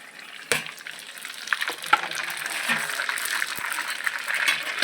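Mustard seeds, cumin and bay leaf sizzling in hot mustard oil in a kadai, a steady close hiss with a few sharp pops and crackles throughout.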